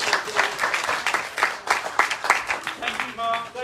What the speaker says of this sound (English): A round of applause for the Treasurer's Report.